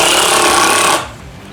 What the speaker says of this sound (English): All right, Eli, screw them down.